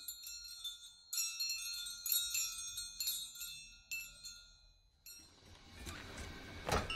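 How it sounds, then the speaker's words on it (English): Tunable chimes made from a deconstructed glockenspiel ring out in a string of bright, clear metallic strikes, each note hanging and decaying, before a wash of noisy rustle takes over near the end. "Tunable chimes made from a deconstructed glockenspiel."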